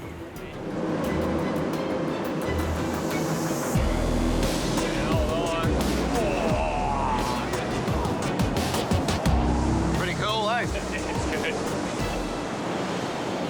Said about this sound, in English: Amazing that amount of water trying to squeeze through that really narrow gap.